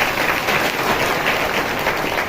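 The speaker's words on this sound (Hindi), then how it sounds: "ताली बजा के परमेश्वर का धन्यवाद।" Steady, dense applause from a church congregation giving thanks to God, a continuous wash of hand clapping with no one speaking over it.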